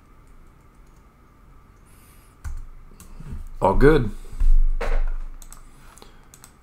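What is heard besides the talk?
typing on a computer keyboard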